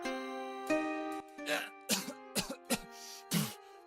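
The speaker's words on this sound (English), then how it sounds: "He looks pretty happy to be coughing" Several short, rough coughing bursts from a character in the video game Space Quest 2 Remake, spaced irregularly over a steady musical drone.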